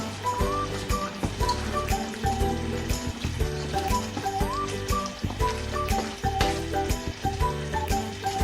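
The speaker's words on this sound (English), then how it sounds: "And now I'm going to add my spring onion." Spring onion going into a sizzling pot of Japanese beef curry, a dense bubbling crackle running steadily throughout, close and moderately loud, with faint tonal background sounds and no talking.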